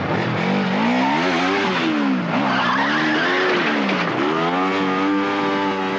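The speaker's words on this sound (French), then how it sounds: "Une moto de la police. Une Harley." A Harley police motorcycle roars loudly and continuously with a rising and falling engine note, revving hard throughout with no pause and no voices.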